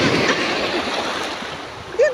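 Ocean waves wash against the shore at night at Ras Tanura, Saudi Arabia, during a night swim, a close, continuous rushing surf with a brief voice rising near the end.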